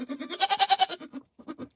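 Rapid, quavering bleats from newborn goats on a farm, a burst of pulsing cries, a brief pause, then more bleating close by.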